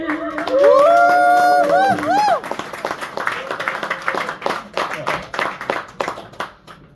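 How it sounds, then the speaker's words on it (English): Audience at a comedy show clapping as a comedian is introduced, starting under a drawn-out whoop and then continuing as a busy spread of claps with crowd noise, fairly loud. "Put your hands together for the very funny Mr. Prince."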